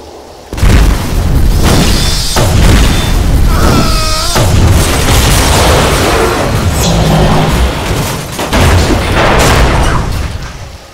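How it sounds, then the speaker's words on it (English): A gas station detonates in the Left 4 Dead video game, a loud sustained boom with crackling, rumbling debris and bursts that rolls on for several seconds after a sudden onset. "preserved both the life of the player and the spectacle of the gas station detonating"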